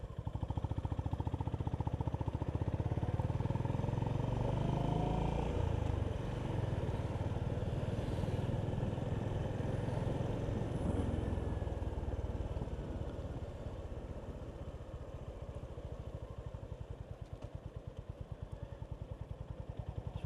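A Honda GB350 S motorcycle engine runs steadily while riding, a low continuous thrum close by that holds for the whole stretch and eases slightly toward the end.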